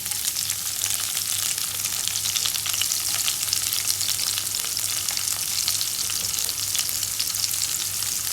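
Onion and chana dal fry steadily in a pan, giving a continuous close sizzle with crackling bursts and no voices, lasting several seconds.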